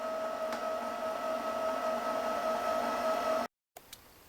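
A sewing machine winds a bobbin with a steady, fairly quiet mechanical whir and a constant hum. It runs evenly for several seconds, then cuts off abruptly, and a couple of faint clicks follow.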